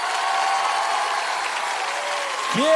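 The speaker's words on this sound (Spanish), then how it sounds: "Quiero que le demos un gran aplauso a" An audience applauds at a comedy show, a smooth, even wash of clapping that holds steady. A brief sliding whistle-like tone appears near the end.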